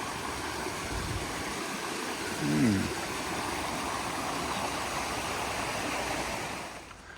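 Sailors Creek bubbling through a blackberry-infested valley below a closed bridge downstream of Sailors Falls, a steady broadband water rush heard from above, with a brief voice-like murmur near the middle.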